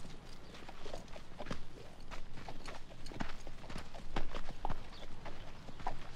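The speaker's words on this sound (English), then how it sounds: "I want you to take Ginger and walk around this arena for 1 hour" A horse walks around an arena, its hooves clip-clopping in a steady, moderately close rhythm with no talk over it.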